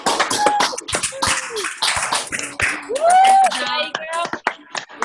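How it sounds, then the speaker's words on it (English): Scattered clapping and cheering voices from several participants on a Zoom video call, celebrating Jade. The claps come in uneven bursts, mixed with overlapping talk and exclamations rather than a steady ovation. "Let's give Jade a big round of applause"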